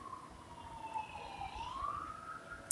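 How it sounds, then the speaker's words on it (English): A police car siren wails outside, its rising and falling tone sweeping clearly through a quiet room at moderate distance, with a brief click at the end. "you can't have a video without police sirens"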